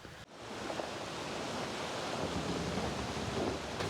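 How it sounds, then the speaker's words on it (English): Wind blowing outdoors on a snowy river trail in bitter cold, a broad steady rushing roar with gusty buffeting against the microphone, after a brief drop at the start. "The wind has died down quite a bit. It is still windy, but not as bad as it was when I started."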